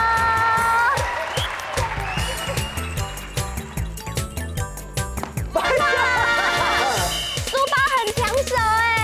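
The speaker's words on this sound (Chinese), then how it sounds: "小朋友帮我拍拍手。" Children clap their hands in a rhythmic burst of sharp, close claps at a lively kids' show, mixed with bright music and voices before and after.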